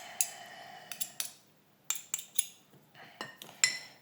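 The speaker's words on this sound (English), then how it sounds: "I can then use the same fork to beat it." A fork beats pizza batter in a mug, giving a series of sharp metallic clinks and scrapes in irregular bursts, close and fairly quiet, with no talking.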